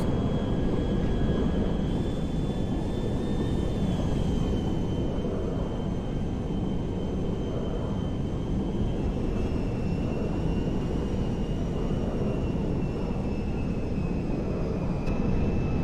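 A C-17A Globemaster transport plane in GTA 5 flies under heavy power, giving a constant loud engine roar with a thin, steady turbine whine riding on top and no break.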